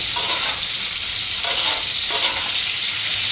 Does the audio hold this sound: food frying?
yes